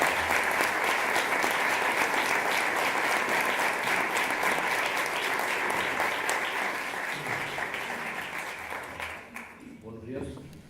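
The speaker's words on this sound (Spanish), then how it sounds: "Les pido un fuerte aplauso para él." Audience at a book presentation on regional jota folklore applauding the author, steady crowded clapping that slowly tapers off, with a voice starting to speak as it dies away.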